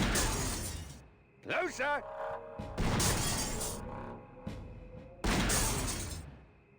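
Glass shatters in bursts during a shootout in the video game Grim Fandango Remastered, loud crashing noise mixed with ringing game effects while a voice speaks briefly.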